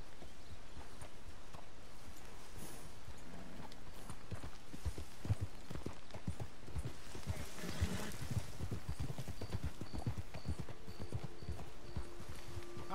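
Horse hooves clip-clop rapidly and steadily in Red Dead Redemption 2, a continuous galloping rhythm with occasional snorts, close and even, over a faint ambient background.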